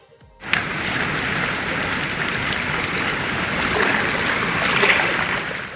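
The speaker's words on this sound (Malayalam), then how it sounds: "വടക്കൻ കേരളത്തിൽ ഇന്നും മഴ കനത്തു." Steady, dense hiss of heavy monsoon rain in northern Kerala falling on surfaces, constant and fairly loud throughout after a short quiet start.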